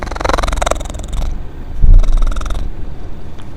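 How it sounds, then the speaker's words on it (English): A cat purring on a person's lap, close and loud, with a rhythmic rumbling pulse that swells and fades over a few seconds, heard alone without talk. "Cat purring in the background."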